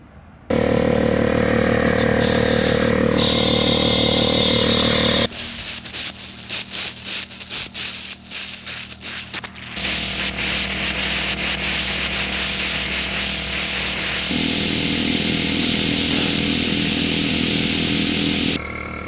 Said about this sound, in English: since I have a small air compressor, 6 gallons, I'm probably going to have to charge the air compressor a few times